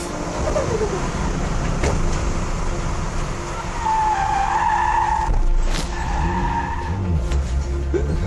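Tyres skid and squeal as a car drifts sideways in a UK drift challenge, loud wavering screeches rising and falling over a roaring engine, continuous and close.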